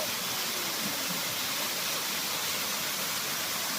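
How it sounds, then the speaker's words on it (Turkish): The Gümüşsu waterfall, a natural falls set in green surroundings, pours in a steady, dense hiss of rushing water that stays even and unbroken throughout, with no voices over it. "Gördüğünüz gibi yeşilliğini korumuş doğal bir şelale."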